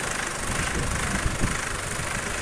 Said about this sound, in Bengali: এখন আমরা 3000 আরপিএম করে নিব।